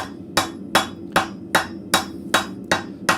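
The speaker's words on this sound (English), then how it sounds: "I'm just using the horn of the anvil or the bit of the anvil" Light hammer blows on the horn of a blacksmith's anvil while forging an arrowhead, eight crisp, ringing strikes in an even, steady rhythm, close and clear with nothing else heard.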